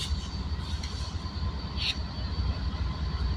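Freight train M649, led by a CM44AC locomotive with an ES44AH trailing, starting southbound out of a rail yard: a steady low diesel rumble and rolling rail noise close by, with a brief hiss midway and no talk.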